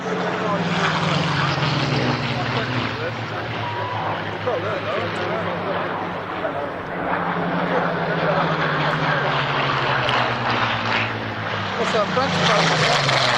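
Propeller aeroplanes flying past at the Duxford airshow, a loud, continuous drone of piston engines with shifting pitch as they pass, heard under a commentator's talk.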